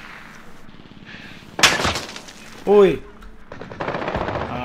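Gunfire in the game Call of Duty: Mercenaries of Fortune, with a sudden loud burst of shots standing out over a steady game background. People talk briefly, and other game sounds follow.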